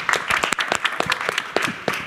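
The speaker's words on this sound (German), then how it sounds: "Wenn du gehst, kriegst du Applaus." Audience applause fills a fishbowl-style panel discussion on education at the Common Grounds Forum, a dense patter of many hands clapping steadily and fairly close for about two seconds.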